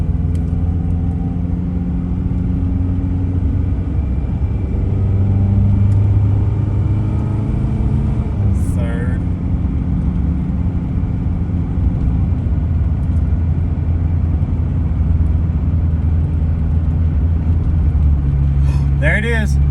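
A Chevrolet Cavalier with an automatic transmission accelerating, its engine droning loudly and steadily with a brief shift in pitch partway through as the gearbox changes up.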